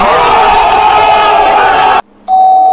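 In the video game Schoolboy Runaway, a doorbell rings over a loud, crowd-like game soundscape. A short drop to near silence follows, then a sustained bright electronic chime tone.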